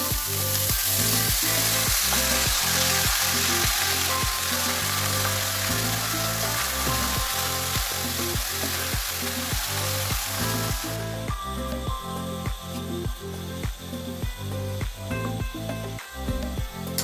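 Shredded cabbage fries in coconut oil with mustard seeds and curry leaves in a home kitchen. A dense, constant sizzle is heard close up, punctuated by a regular rhythm of spoon scrapes and stirring knocks.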